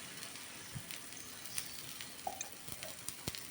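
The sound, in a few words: wheat paniyaram batter sizzling in nonstick pan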